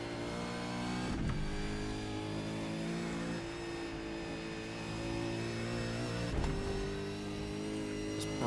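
V8 Supercar engine racing at Bathurst in the iRacing simulator, a continuous loud revving note that rises and drops through gear changes for the whole stretch.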